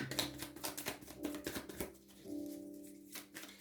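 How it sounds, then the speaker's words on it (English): A deck of tarot cards is shuffled by hand close by, giving quiet, rapid riffling and slapping bursts, while a faint voice talks softly underneath. "I need to shuffle to get my last one out."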